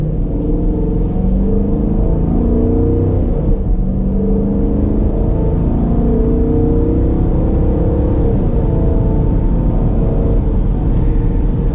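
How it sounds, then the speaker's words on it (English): A 2019 Dodge Durango R/T AWD V8 engine and exhaust heard while driving, a steady deep rumble with rising revs and gear changes, continuous and fairly loud from inside. "it's a nice sounding V8, nice acoustics, nice exhaust note"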